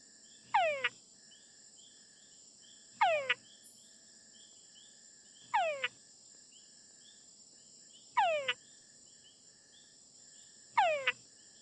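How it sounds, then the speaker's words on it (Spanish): Túngara frog mating calls, each a descending whine with a short chuck, repeat five times at steady intervals of about two and a half seconds, over a constant high insect drone in a night setting. "de una rana túngara y este murciélago verrugoso, Trichops ferrosus, que va a usar la llamada para encontrar a la rana"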